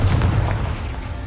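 The Confringo blasting spell in Hogwarts Legacy goes off as a loud, booming explosive burst with a heavy low thump that decays over about a second.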